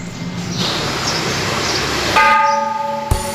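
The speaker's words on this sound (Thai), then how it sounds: "หลวงพี่ก็มาตอระฆังแล้วครับ ได้เวลาสวดมนต์แล้วครับ" At a Thai Buddhist temple on Visakha Bucha day, a monk strikes a large temple bell. Two resonant strikes ring out, the first sustaining with a rich humming tone and the second cutting in shortly after, over steady background noise.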